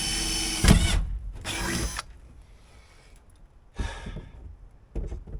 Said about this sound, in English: So I'm just going to drill a pilot hole just to make sure before I go crazy with the step drill.